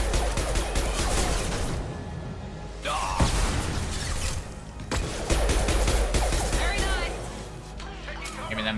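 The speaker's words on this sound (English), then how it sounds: "Firing an impact shot." Gunfire in the video game Mass Effect 2 rattles in loud dense bursts amid shattering impacts and clattering combat effects, with voices calling out over the noise.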